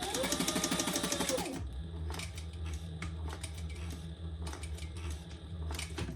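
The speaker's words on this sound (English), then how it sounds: "I'm going to back stitch because my thread matches perfectly" A sewing machine back stitches a wallet, opening with a dense, fast whirring run for about a second and a half, then settling into scattered close clicks and thumps over a low hum.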